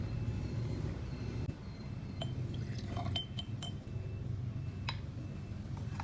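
Several light clinks of a spoon against a glass holding Betadine drops and soda water during a school chemistry practical, scattered and fairly close, over a steady low background hum.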